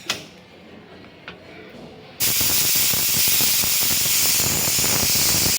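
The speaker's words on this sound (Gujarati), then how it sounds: "હવે આ કુકરનું ઢાંકણું ઢાંકી ને હું ત્રણ વિસલ વગાડી દઈશ" After a quiet stretch with a couple of faint clicks, a pressure cooker suddenly lets out a loud, sustained rush of hissing steam that continues to the end.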